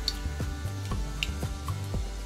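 Mustard seeds dropped into hot oil in a pan give a steady sizzle with a string of small, regular crackles and pops, close and continuous without talk.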